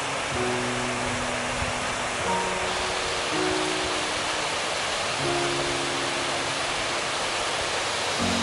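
Small mini waterfalls in a Catskills stream at Kelly Hollow, a constant close rushing hiss of falling water, steady and unbroken, with some faint low tonal hum in the background.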